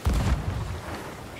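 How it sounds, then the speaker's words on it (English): Ship cannon firing in an online pirate video game, a single deep boom with a rumbling tail that fades over about a second. "You are so good at the cannon."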